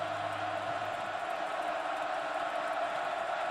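Steady wash of stadium crowd noise at a college football game between K-State and OSU, a continuous dense roar holding at an even level throughout without breaks.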